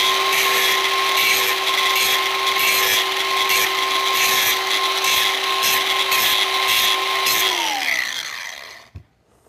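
A power tool takes the burr off a metal part for a homemade log grapple. A steady, loud high whine holds for several seconds, then winds down and stops with a small clunk.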